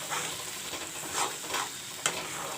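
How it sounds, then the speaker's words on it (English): Curry masala frying in a pan for a chicken curry, a steady close hiss of sizzling oil broken by a few soft scraping stirs, with no talk over it. "Now this will fry. I will let this masala fry."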